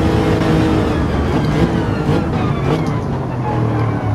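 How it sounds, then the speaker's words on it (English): A race car in Gran Turismo 7 downshifts for a hairpin, giving a loud, continuous engine roar that dips and shifts in pitch as the gears come down, with no talking. "Down the gears, try and get that car slowed down for this hairpin turn"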